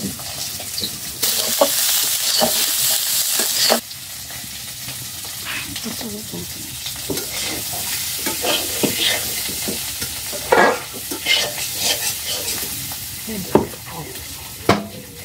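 Potatoes fry lightly in a pan while being stirred, giving a steady sizzle broken by scraping strokes and a few sharp clatters, with brief talk in between.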